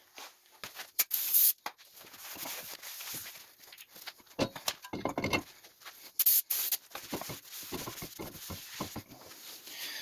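A brake rotor for a 2014 Kia Soul gets sprayed with cleaner to strip its protective oil, in short close hissing bursts separated by pauses and light handling noises.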